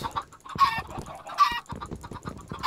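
Minecraft chickens cluck in short bursts, several clucks in quick succession with brief gaps between them, up close and clear, with no one talking.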